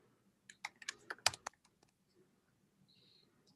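Rapid burst of keystrokes on a computer keyboard as a password is entered, about a dozen crisp clicks over a second, then quiet room tone with a faint later tone.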